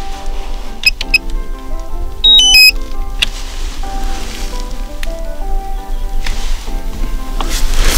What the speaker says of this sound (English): Oh, things are beeping at me